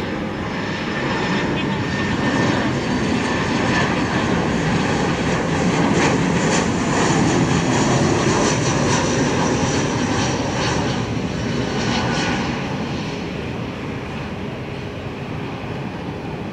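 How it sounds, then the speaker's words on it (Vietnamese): A Bamboo Airways Airbus A321 arriving from Hanoi comes in to land at Tan Son Nhat airport, its jet engines giving a loud, broad, steady roar that swells toward the middle and eases slightly near the end, with no talking. "Còn đây là chiếc Airbus A321 của Bamboo Airways từ Hà Nội về đến sân bay Tân Sơn Nhất đang bước vào hạ cánh"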